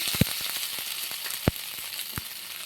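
Five-spice tempering frying in hot oil in a wok for vegetable patties: a steady, hissing sizzle broken by a few sharp pops and spits, close and moderately loud, with no talking.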